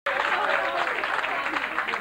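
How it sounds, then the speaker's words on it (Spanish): A crowd at a trophy ceremony in Nigrán applauds the tournament champion, a dense, steady round of clapping that starts abruptly and runs throughout while someone talks over it. "Un aplauso al campeón, sí señor."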